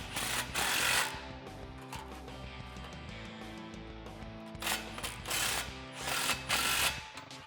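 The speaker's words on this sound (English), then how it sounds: "tighten them down with a 15 socket" A ratchet with a 15 mm socket tightening exhaust clamps on a Borla cat-back system for a 2009-2014 Challenger 5.7L, heard as close repeated clicking bursts with short pauses between strokes.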